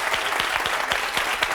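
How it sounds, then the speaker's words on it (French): Studio audience on a French television talk show applauding steadily as a female guest is welcomed onto the set, a dense, even patter of many hands clapping without voices. "On peut applaudir Séverine."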